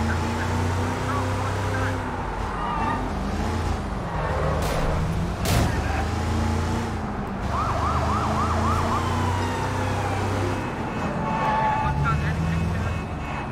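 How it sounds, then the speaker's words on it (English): Police car sirens wail continuously in the video game Sleeping Dogs, rising and falling over a low engine and traffic rumble, loud and sustained, with brief chirping siren patterns mixed in. "I can turn the sirens back off."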